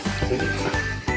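Frogs croak by the seaside at a beach resort, a rapid burst of close, loud croaking calls filling the short moment without talk.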